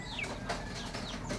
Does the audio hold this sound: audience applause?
no